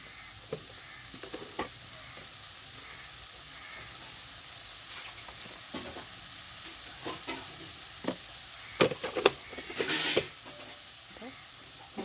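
Soya ball masala with chili powder being sautéed in a pan, a soft steady sizzle with occasional stirring scrapes and clicks, a louder burst of stirring near the end, no talking.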